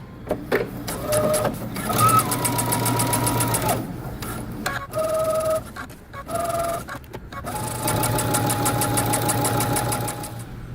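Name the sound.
sewing machine stitching jeans seam allowance and underlap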